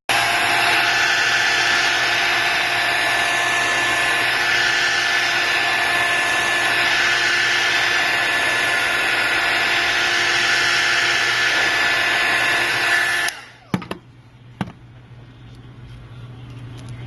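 Heat gun warming the glass of an iPad Mini to loosen it, a loud continuous airy blower whine with a steady hum held for a long stretch, then switched off, leaving a few small handling clicks.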